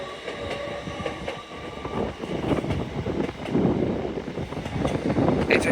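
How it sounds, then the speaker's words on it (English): Lumo Class 803 electric train passing through York station on the East Coast Main Line, a steady rolling rumble with clattering wheels that builds slightly and holds loud throughout, with no talk over it. "Pass through now is a Lumo 803 from Edinburgh Waverley to London King's Cross."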